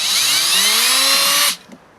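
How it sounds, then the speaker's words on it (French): A small drill with a tiny bit bores a hole in plastic. A loud, steady high whine holds for about a second and a half, then cuts off sharply, leaving a faint mechanical click afterward. "je vais faire deux petits trous là dans le plastique pour évacuer l'eau"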